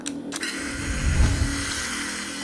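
An Enchen electronic shaver runs steadily after being switched on, a continuous mechanical buzz with a faint rise in low rumble midway, close and alone.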